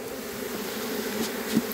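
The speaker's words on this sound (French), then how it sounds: "Donc les abeilles qui sont dessus." Honeybees crawling over a beehive frame give a steady, close buzzing hum that holds through the clip, with no talk over it.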